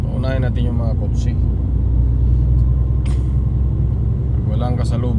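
Cars pass on a narrow road in the Philippines with a constant low rumble and a couple of whooshing passes, heard from inside a vehicle while people talk over the noise.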